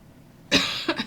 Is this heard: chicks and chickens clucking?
no